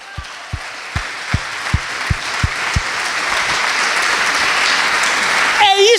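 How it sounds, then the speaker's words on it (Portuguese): A church congregation bursts into applause, a dense sustained roar of many hands clapping that swells and holds, with a few sharp low thumps early on and a voice rising at the end. "Aplauda o Senhor."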